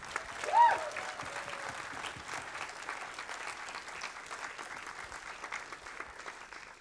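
An audience at a film festival award ceremony applauds steadily for several seconds, a dense patter of clapping with a short whistle early on.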